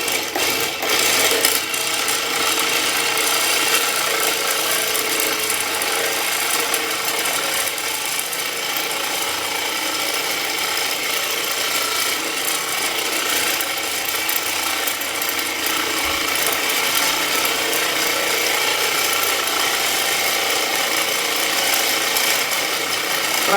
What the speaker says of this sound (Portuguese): Vou ligar aqui o ventilador, a gente vai ver que já vai ter uma movimentação.